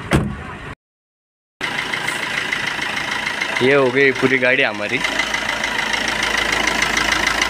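A Tata Vista Quadrajet diesel with a turbo problem and smoke issues idles close by, a steady continuous engine rumble with a brief dropout near the start, while someone talks over it.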